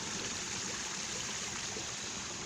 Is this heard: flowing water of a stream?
yes